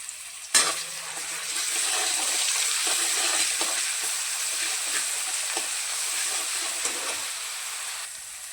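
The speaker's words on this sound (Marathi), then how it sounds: "त्याच्यामध्ये मिरची चांगली फ्राय करून घेऊया" Green chillies fry in a ladleful of oil in a kadhai, giving a steady, close, broadband sizzle that jumps in with a sharp onset and then holds evenly to the end.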